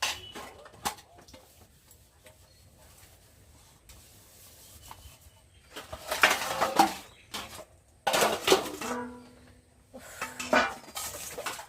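Dishes and pots scrubbed by hand in a household kitchen: quiet rubbing broken by loud bursts of clinking and scraping metal, coming in irregular clusters close by.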